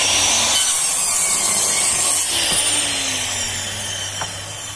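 Power saw rips through a wooden board for a tiny house frame, a loud, continuous, gritty cutting whine close up that holds steady for several seconds, with no speech.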